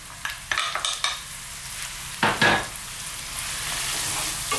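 Carrots go into a frying meatloaf mixture with minced garlic and ginger, bringing a few quick stirring scrapes and clatters, then a steady close sizzle.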